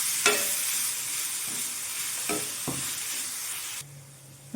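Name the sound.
stirring soaked flattened rice (poha) upma in a pan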